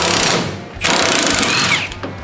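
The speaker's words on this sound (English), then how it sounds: "Let me get the big impact on there." Heavy impact wrench hammering on a 1966 Mustang GT fastback, a loud continuous rattling burst after a short lead-in, close up in a garage setting.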